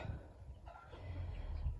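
A mother goose with five goslings on a poultry farm, soft peeping and clucking calls rising and falling steadily under a low background rumble, fairly close.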